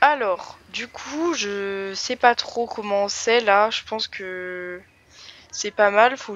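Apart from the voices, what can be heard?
No everyday noises stand out.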